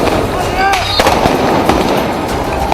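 Protesters fire guns at the army in a Beirut street near the US embassy. Sharp cracks and pops go off irregularly over a loud, noisy crowd scene, partly under a speaking voice.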